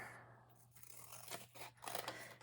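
Scissors snipping paper strips for a recycled hardcover book journal, a few close, soft cuts and rustles spread over a couple of seconds, no speech.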